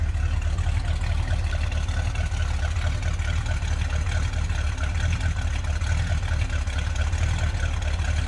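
A 1967 Dodge Dart GT convertible's 318 V8 engine idles steadily nearby with a deep, continuous low rumble and no talking.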